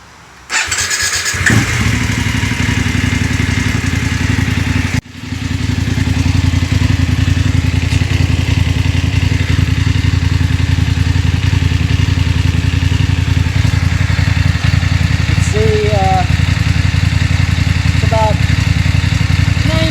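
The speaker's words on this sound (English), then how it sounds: "so there's a stock exhaust before I start it up." A BMW 850 GS motorcycle with stock shotgun exhaust cranks and fires up, stumbles briefly, then settles into a loud, steady idle that rumbles on, with a few faint chirps near the end.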